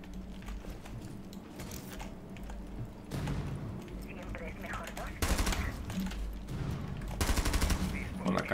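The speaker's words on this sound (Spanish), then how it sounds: "Están disparando aquí." Gunfire in Rainbow Six Siege, rapid automatic bursts that arrive in several dense clusters, growing louder toward the end, with voices talking quietly underneath.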